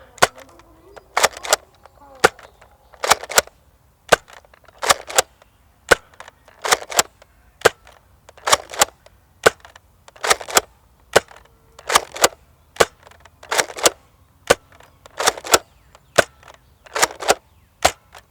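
A stock Nerf Modulus Tri-Strike blaster fires ten foam darts, one at a time. Each shot is a sharp, close snap, usually paired with a priming clack, and the shots repeat at a steady rhythm of roughly one per second.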